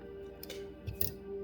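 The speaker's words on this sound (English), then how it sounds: "now we're going to do some trimming." Scissors trim materials on a Demetria Winter Goddess steelhead streamer fly at the tying bench. Two quick, quiet snips come about half a second apart over a low, steady room hum.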